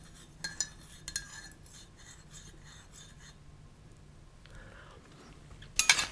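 A spoon stirs coffee in a cup, giving a few soft, sparse clinks against the ceramic in a quiet room, with a brighter clatter near the end.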